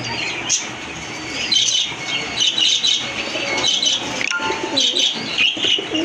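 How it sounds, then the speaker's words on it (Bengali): An Indian Kagzi pigeon calls among birds offered for sale, with wing flaps and chirps in a busy loft; the calls come in short bursts against steady background noise. "হ্যাঁ দেখছেন ভাইয়ের কিন্তু একটা কনফিডেন্স ছিল যে কবুতর ডাকবে"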